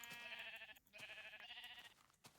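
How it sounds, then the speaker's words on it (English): Sheep in a video game bleating twice in quick succession, quavering nasal calls, fairly faint but clear, followed by a short click, with no voices. "sheep."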